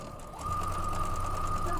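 A sewing machine starts up and runs at an even speed with a rapid, close mechanical whir and a steady hum.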